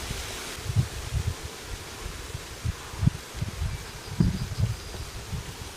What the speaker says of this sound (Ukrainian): Як можна почути на камеру, присутній сильний вітер.